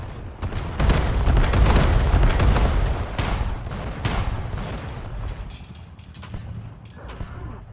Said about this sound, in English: Lobbing pinpoint grenade!